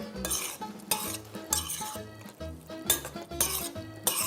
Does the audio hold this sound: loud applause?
no